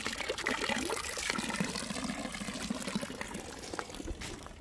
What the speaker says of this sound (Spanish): esta agua es potable y tú la puedes tomar sin problema